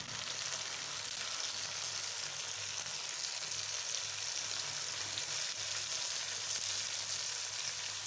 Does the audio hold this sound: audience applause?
no